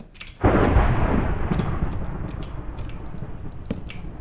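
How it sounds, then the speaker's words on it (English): Thunder in Minecraft rolls in suddenly as a loud crack, then a long rumble that slowly fades, with faint clicks and pops afterward. "That thunder is not comforting."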